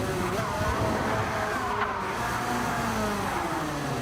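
A race car engine in Gran Turismo 7 during an online lobby race holds a steady, loud drone, with some pitch shifts as it revs, for about four seconds.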